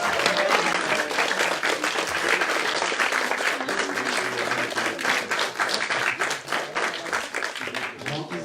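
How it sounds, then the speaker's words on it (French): A crowd applauds the winning team at a digital quiz final, with loud, sustained, dense clapping that carries on steadily for several seconds. "on peut les applaudir encore une fois"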